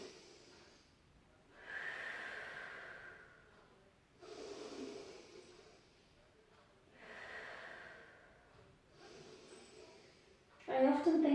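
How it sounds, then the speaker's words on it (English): Deep, slow breaths during a Pilates stretch, three long audible inhales spaced a few seconds apart, close and breathy, with quiet gaps between and a brief louder sound at the end. "Take a breath in."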